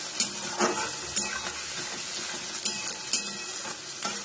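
Urad dal is stirred and roasted in a pan for upma, giving a soft, steady sizzle with a handful of sharper scraping clicks from the spoon at irregular intervals.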